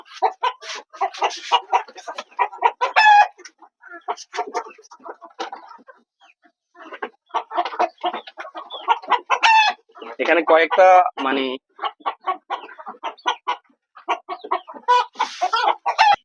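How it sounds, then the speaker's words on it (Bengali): Egg-laying hens cluck in busy, repeated bursts nearby in a rooftop coop, with a few louder squawks and a person speaking briefly among them. "এটা হচ্ছে লেয়ার টাইপের মুরগি"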